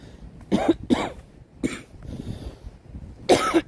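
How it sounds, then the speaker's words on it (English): A man with lingering chest congestion coughs in four short, harsh bursts, close and clear in a quiet late-night setting. "my coughing went away for the most part. I just kind of picked back up tonight"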